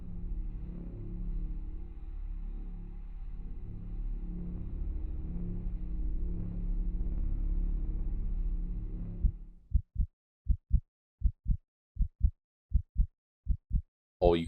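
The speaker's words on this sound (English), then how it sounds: "All you can hear is your own breath and heartbeat." Heartbeat sound effect heard alone, a steady run of close, soft low thumps in a slow rhythm, following a stretch of rumbling breath-like noise that cuts off abruptly.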